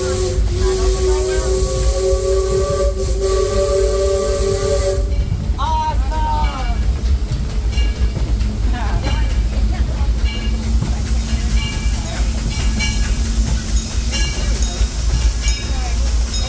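Disneyland Railroad steam train Ernest S. Marsh riding along, a loud, steady rumble with hissing steam and whistle-like tones near the start, heard from on board.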